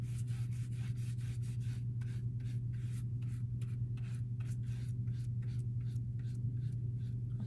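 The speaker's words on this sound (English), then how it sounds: "sand off the edges once it's dried to clean up the edges" Sandpaper rubs the edges of a small homemade lamp in quick, regular back-and-forth strokes, a close scratchy rasp repeating over a steady low hum.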